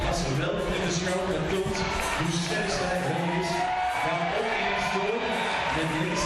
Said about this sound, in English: Crowd cheering away.